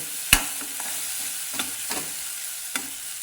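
Chili, garlic and ground peanut paste frying in oil in a pan, with a loud spatula knock at first followed by a steady low sizzle and a few scattered scrapes of stirring.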